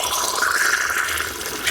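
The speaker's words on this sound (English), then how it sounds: "It's a cold water garden hose tap." Cold water running from a garden hose tap into a container while working on an Opel Astra H ZX18E engine, a steady close hissing rush with a slight rattle, continuous and without talk.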